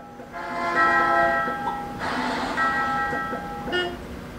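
A train in the game Crossy Road sounds its horn in sustained tonal blasts as it rushes past, with a brief break before the horn resumes over a rumbling rail noise.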